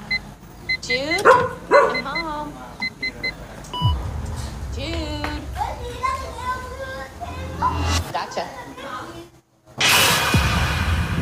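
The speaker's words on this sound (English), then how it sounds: "It's just a dog." A dog barks in a movie trailer, several sharp barks and yips mixed with music, car sounds and other effects, close and fairly loud.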